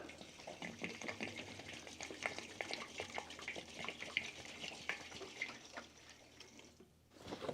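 Liquid being poured out of a container into the fuel tank of a 1940 Dodge VFA32 truck, a continuous splashing, gurgling pour close by that stops abruptly near the end.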